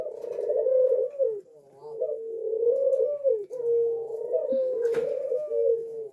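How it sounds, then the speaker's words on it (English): Ringneck doves coo close by in long, steady, rolling phrases, one drawn-out call running into the next with only brief pauses, clear and fairly loud against a quiet background. "You're going to have cooing if you have doves"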